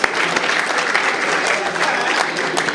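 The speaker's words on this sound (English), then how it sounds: "how about another warm round of applause?" Audience applause at a keynote event for the introducer Robin, a thick continuous wash of clapping from a large crowd, loud and sustained with faint voices underneath.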